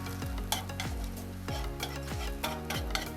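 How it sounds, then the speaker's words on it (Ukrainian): Chicken liver laid over carrots and onion in a pot, sizzling while being spread level with a utensil, with repeated scraping strokes and soft knocks against the pot over a steady frying hiss. "Розподіляю моркву та цибулю по поверхні казана. Так. Зверху викладаю печінку. Розрівнюю все."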